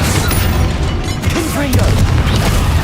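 The Flipendo spell in Hogwarts Legacy on PC bursts out as a loud, dense whooshing boom with rumbling low end and crackling effects, continuous over a few seconds amid busy game sound.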